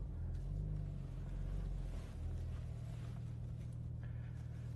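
A manual Porsche 911 pulls away from a stop in first gear, a low, rumbling engine that swells and dips as it gathers speed, heard faintly from inside the car.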